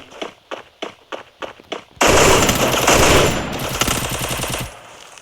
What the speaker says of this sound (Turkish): Şuradan biri vuruyor.